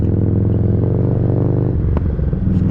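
Harley Davidson Street Rod motorcycle rolling slowly in first gear through downtown Dubai, a loud, close, throbbing low engine rumble with a steady lumpy beat that drops in pitch briefly near the end.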